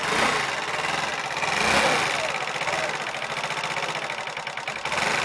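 Warmed-up Chinese four-stroke scooter engine idling during carburetor adjustment, a steady close-up putter with a fast, even rhythm and a slight surge near the start, with no talking over it.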